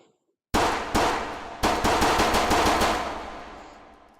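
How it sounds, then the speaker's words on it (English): A handgun fires in a VR video game, single sharp shots that build into a fast string of rounds, each loud crack ringing out and trailing off, with no voices. "This will now fire when I pull the trigger."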